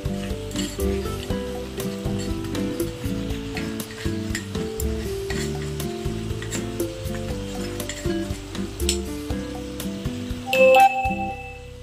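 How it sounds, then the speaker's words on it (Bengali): Spices sizzle with chicken in a pan while a spoon rubs and scrapes steadily through the meat, a continuous frying hiss under repeated stirring strokes, ending with a brief louder clatter. "মাংসটা নাড়াচাড়া করার পর যেই মশলাগুলো রেখেছিলাম সেই মশলাগুলো দেবো"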